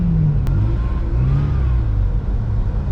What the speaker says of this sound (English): Cheeky rev.